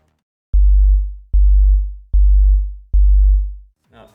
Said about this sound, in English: And when we play it now, it sounds like this.